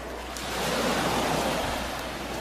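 Ocean waves surge onto the shore with a broad, close rushing wash that swells to a peak and then eases, with no voices over it.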